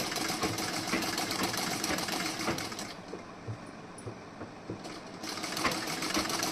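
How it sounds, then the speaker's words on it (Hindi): A sewing machine stitches the back panel of a blouse with a fast, steady mechanical clatter, slowing briefly in the middle before running up to full speed again; no talking. "इस तरीके से आप सिलाई लगाइए।"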